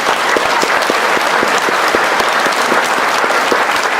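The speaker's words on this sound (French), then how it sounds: "vous pouvez les applaudir très très fort" An audience at a celebration for a 2010 junior world champion in Plouvien applauds loudly and steadily, a dense wash of clapping with a few sharper individual claps standing out throughout.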